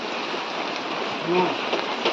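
Steady rain falling outdoors during a family stage-decoration setting, a continuous broadband hiss with a brief tonal sound partway through and no clear speech.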